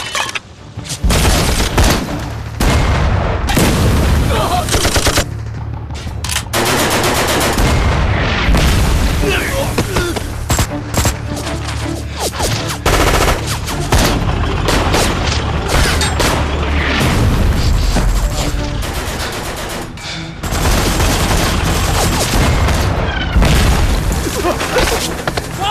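War film battle scene with American tanks shelling entrenched positions: loud booming explosions and bursts of gunfire roll almost continuously, with shouting voices mixed into the chaos and brief lulls between barrages.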